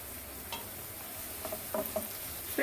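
A slit green chili fries in a pan while dried anchovy thokku is being cooked, giving a soft, steady sizzle with a few light stirring clicks toward the end, and no voices.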